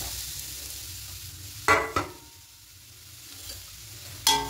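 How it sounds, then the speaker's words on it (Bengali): Grated coconut and sugar being stirred in a wok for a white sweet filling: quiet low hiss, broken by a few brief, close spatula scrapes against the pan. "এভাবে করে অনবরত নাড়তে থাকবো, তাহলে এটা লাল হবে না।"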